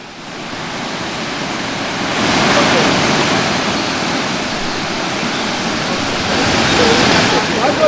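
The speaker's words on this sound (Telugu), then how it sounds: "ఎల్లంపల్లి ప్రాజెక్టుకి పెద్ద ఎత్తున వరద వచ్చి చేరుతోంది" Floodwater rushes into the Yellampalli project reservoir in a steady, loud, broadband roar of surging water that swells slightly partway through, with no voices.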